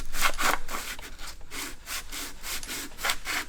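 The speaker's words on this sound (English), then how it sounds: "I'm getting some sandpaper, and we're going to try to clean up this surface on here just by lightly" Sandpaper rubs lightly by hand over a worn Honda CR500 motorcycle surface. About ten quick, rhythmic scratchy strokes sound close and clear, with no talking.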